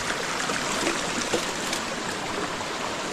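Water from a spring, opened up by an uncle at a riverside house, pours in a steady, unbroken rush of broadband hiss with no voices over it.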